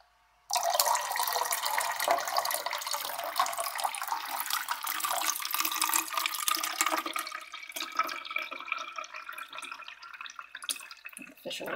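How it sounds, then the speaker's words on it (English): Water is dumped into a small half-gallon fish tank, a close, loud splashing gush that starts abruptly and pours steadily for several seconds before thinning into trickles and drips. "when you dump water in, it swirls it around"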